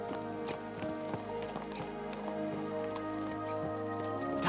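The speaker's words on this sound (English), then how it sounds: "Let's really spur these horses on, eh?" Horses' hooves clip-clop in a quick, steady rhythm in the medieval game Kingdom Come: Deliverance II, close and moderately loud over a faint background score.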